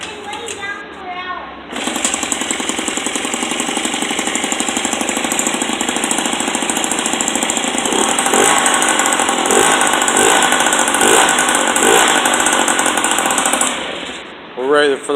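A Yamaha PW50 dirt bike's small rebuilt two-stroke engine starts up and runs steadily, a loud close buzzing idle that holds for over ten seconds before cutting out, with faint talk around it.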